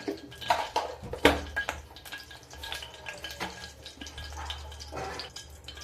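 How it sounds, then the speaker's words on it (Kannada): Sizzling and crackling as mustard seeds hit hot oil in a pan, with scattered pops and metallic scrapes, close and busy throughout. "ಇವಾಗ ಸ್ವಲ್ಪ ಸಾಸಿವೆ ಹಾಕ್ಕೊಳ್ಳೋಣ, ಎಣ್ಣೆ ಕಾದಿದೆ"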